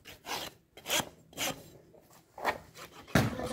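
A rasp files a horse's hoof in rhythmic, gritty strokes, about seven rough back-and-forth scrapes spaced roughly half a second apart, close and fairly loud, with no talk.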